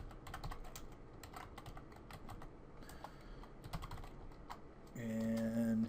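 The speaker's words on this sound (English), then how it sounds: "we're going to type in urban agriculture in quotations" Fingers tap out a search query on a computer keyboard in quick, light clicks with brief pauses, close and fairly quiet, ending with a short electronic tone.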